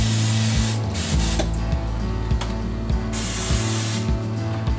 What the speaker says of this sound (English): So I'm just gonna spray a little butter on it.